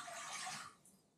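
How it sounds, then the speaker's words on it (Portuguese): Water pours steadily into a cooking pot, about 500 ml at a time, for making miso soup at home. It is a bright, splashy stream that fades off near the end. No one talks over it. "Primeiro vamos pôr água para ferver"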